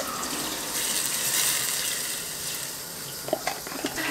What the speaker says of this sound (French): j'ai mon ail qui est cuit, j'ajoute mon bouillon.